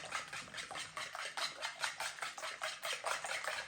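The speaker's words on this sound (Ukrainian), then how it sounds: "небагато перемішали або вилочкою, або вінчиком. Я буду вінчиком. Збивати не треба, просто перемішати." A whisk beats eggs in a bowl, a quick, even series of soft scraping strokes, close and fairly quiet with no talking.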